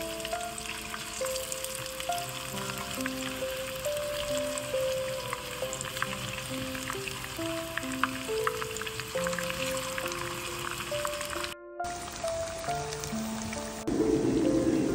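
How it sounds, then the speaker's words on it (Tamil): Salmon fish pieces fry in a pan with a continuous crackling sizzle, heard under steady background music with sustained melodic notes throughout. "மீன் ஒரு சைடு நல்லா வறுபட்டுருச்சு."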